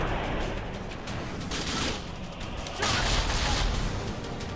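Gunfire in the video game The Darkness, a dense continuous burst of shots that stays loud throughout, swelling stronger near the end, with no talking over it.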